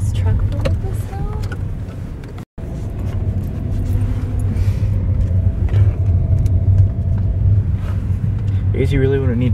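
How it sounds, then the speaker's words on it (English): Truck loaded with snow after a blizzard, a loud low engine rumble rolling along a snowy road, close and continuous, with people talking over it. "He's got his truck full of this snow."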